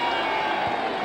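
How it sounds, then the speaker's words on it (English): A rugby league crowd at a Bradford versus Leigh Regal Trophy match at Odsal sends up a steady, broad roar of cheering, continuous and fairly loud throughout the short moment. "And a big cheer going up here at Odstall"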